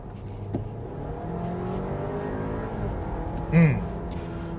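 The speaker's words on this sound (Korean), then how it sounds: "이 소리는 지금 변속기 소리예요." An Audi Q5 45 TFSI quattro with a DCT gearbox accelerating hard from inside the cabin, a steady rising engine and transmission drone with a brief louder surge near the end.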